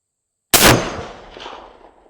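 A single loud Armalite AR-50 rifle shot cracks out at a shooting range, a sharp blast that is followed by a decaying echo rolling away for over a second.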